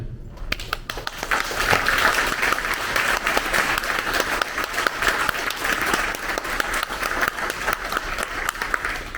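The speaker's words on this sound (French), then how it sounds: "Je vous propose de vous applaudir." Applause for young people at a Lourdes gathering, a large crowd bursting into sustained clapping after a brief moment, steady and dense throughout.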